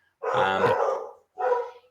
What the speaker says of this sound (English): Oh, sorry, that would be my dogs.